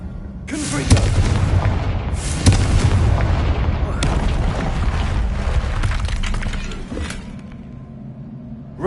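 Confringo blasting spells burst one after another in Hogwarts Legacy, several loud booming explosions with rumbling tails and debris crackle, close and heavy in an open game space.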